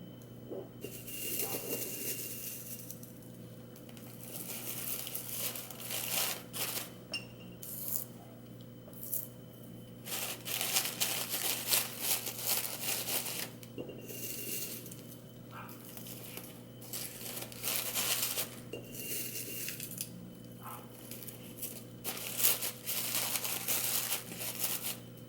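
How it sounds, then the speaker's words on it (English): Dried stinging nettle and mint leaves are mixed by hand for a home-grown tea blend, giving steady close crinkling and rustling that rises and falls in bursts across the stretch. "and then I'm going to mix some mint with it."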